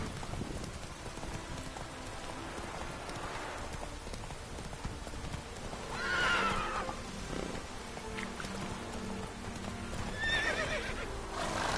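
Horse galloping with steady hoofbeats and letting out a couple of loud neighs in the video game Witcher 3, with no one speaking.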